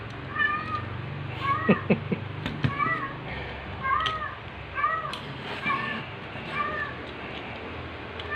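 An outdoor cat meows over and over in a long, uneven series of wavering cries, somewhat distant, while someone talks softly over part of it and small handling clicks sound close by.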